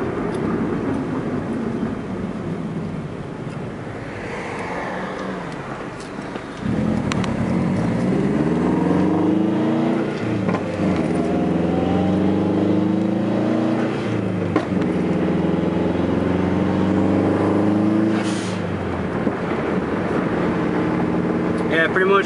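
Onboard a car fitted with a Competition Stage 3 clutch, the engine pulls hard through several gears, each rev rise climbing in pitch and cutting off at a shift, loud and close with a deep drone underneath.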